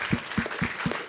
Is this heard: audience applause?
yes